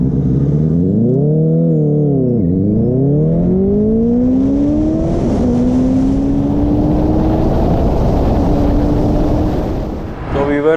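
A Benelli TNT 600i motorcycle accelerates from 0 to 100, its loud engine note climbing through several gear changes with short dips between shifts, steady and close throughout before easing off at the end.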